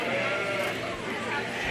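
Sheep bleat at a county fair 4H/FFA sheep and lamb show, a short, close wavering call over dense crowd noise and background chatter.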